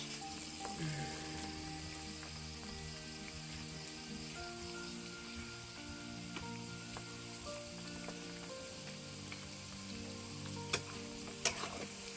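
Pork and squid deep fry in oil, a faint, continuous crackling sizzle with occasional sharper pops, heard beneath a steady tonal background.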